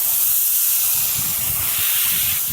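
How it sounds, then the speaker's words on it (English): Aerosol spray paint hissing onto a custom build, a steady loud continuous jet of hiss lasting the whole moment before cutting off abruptly at the end. "Now we're ready to get spraying."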